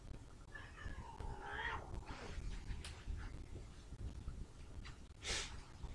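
A cat called Coaster Kitty meows faintly a few times against a quiet, noisy background at an amusement park beach, with short, rising cries spaced over several seconds.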